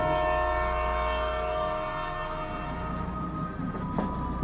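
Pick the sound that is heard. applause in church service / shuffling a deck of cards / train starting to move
train starting to move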